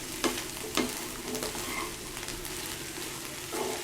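Small pieces of brinjal fry without water in a pan for a Kerala-style mezhukkupuratti, a soft continuous sizzle punctuated by a few sharp scraping stirs of a spoon against the pan.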